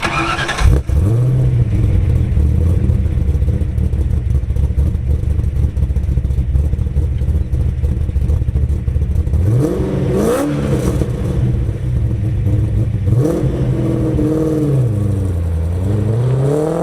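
A 1984 Ford Mustang Foxbody fitted with headers and Cherry Bomb Salute mufflers idles with a deep, loud, lumpy burble up close, rising in a few short throttle blips before settling back.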